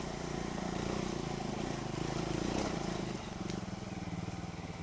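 A Triumph Scrambler motorcycle engine drones steadily and loud while riding on flat roads, a rough throbbing hum with a slight shift in pitch partway through.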